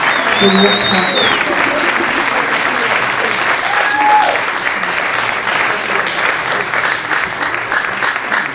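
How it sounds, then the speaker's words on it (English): Sustained applause from a large crowd at a memorial service, steady and loud throughout, with a few whistles and cheers rising above the clapping. "your applause going for his musical family"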